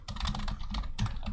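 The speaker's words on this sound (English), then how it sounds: "Sorry, I have a lot of trouble typing and talking at the same time." Computer keyboard typing, a dense, fast run of close clicky keystrokes with short pauses, no voices.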